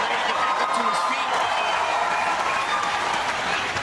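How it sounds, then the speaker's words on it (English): A crowd at the Chen Rui vs Drex Zamboanga MMA fight roars and applauds, a steady dense wash of cheering and clapping that lasts throughout, with commentators talking over it. "The crowd loving that exchange."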